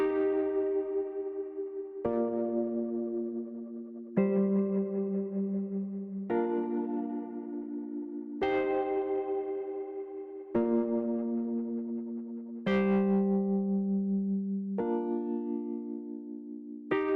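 Rhodes-type electric piano chords run through tube saturation distortion for added grit, eight sustained chords struck about every two seconds, each decaying slowly, clear and upfront with no voices.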